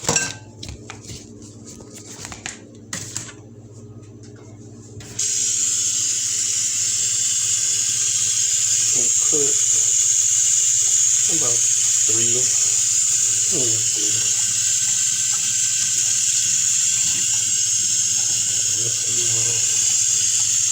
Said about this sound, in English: Get my dates rinsed off.